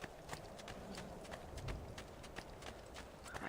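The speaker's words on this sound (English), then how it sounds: "My trusty steed." Horse hooves clip-clopping along a crowded street in Assassin's Creed II, a faint, steady rhythm of repeated hoof clicks in quiet game audio.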